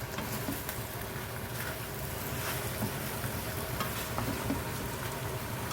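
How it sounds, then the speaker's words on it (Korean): Onions sizzle and fry steadily in a pan while being stirred for pork duruchigi, a close, continuous crackle with soft scraping, no talk. "양파가 익을 때까지 이렇게 저어주시면 돼요"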